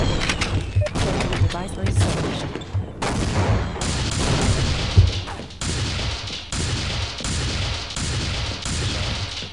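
Rapid bursts of gunfire fill a firefight in the multiplayer shooter Science and Industry, with repeated sharp volleys and brief pauses between them, loud and close throughout.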